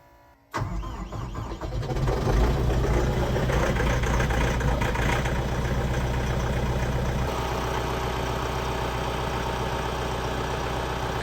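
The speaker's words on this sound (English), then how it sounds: "We're gonna cold start the tractor this morning." A tractor's diesel engine, a 754, cold-starts on a chilly morning after glow plug warm-up, cranking briefly, then catching and roaring to life, settling into a loud, steady idle with a low rumbling throb.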